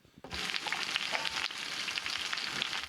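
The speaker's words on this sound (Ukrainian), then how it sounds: "шкварчання сніданку на пательні" Breakfast sizzles and crackles in a frying pan at a Ukrainian artillery position, a steady close hiss that runs unbroken for the whole stretch with no voices.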